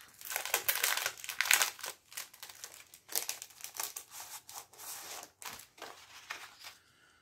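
Plastic wrapping crinkles and crackles as a scrapbooking item is unwrapped by hand, in close, uneven bursts of rustling with short pauses between them.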